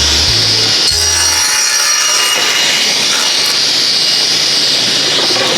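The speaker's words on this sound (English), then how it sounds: "turn the saw on." Table saw ripping wood strips from a blank for barn rafters, a loud, close, continuous high whine and roaring cut after a brief low motor start, sustained throughout.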